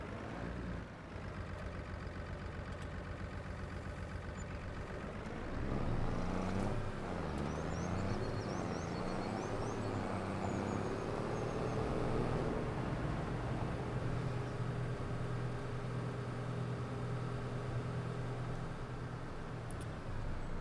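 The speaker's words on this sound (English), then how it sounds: "This lovely little JCB tractor." Low, steady engine drone of a small JCB tractor driving in Farming Simulator 25, running continuously and rising a little in load partway through, with no talk over it.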